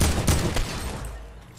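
Rapid bursts of gunfire in the video game Fortnite, loud and close, a dense volley in the first half that thins out toward the end.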